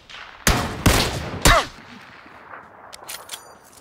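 Three loud, sharp gunshots ring out in a shooter video game, evenly spaced in the first half, followed by fainter metallic clinks and distant pops trailing off.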